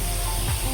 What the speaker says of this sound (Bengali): এখন দিয়ে দেব সয়া সস।